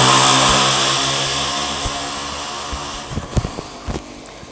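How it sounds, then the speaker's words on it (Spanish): A buzzing motorcycle engine in the Power Rangers Legacy Wars video game, loud and droning at first, then fading under a few sharp game hits and impacts. "por el ruido que está haciendo con su moto."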